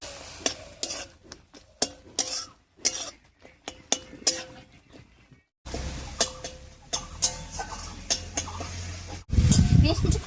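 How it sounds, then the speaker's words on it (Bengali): A metal spatula stirs and mashes softened tomatoes in a pan while they cook down for tomato bharta, giving repeated close scraping and clinking strokes with a soft sizzle underneath. "এই খুন্তি দিয়ে সবকিছু বেশ গলা গলা মতো করে নিয়েছি"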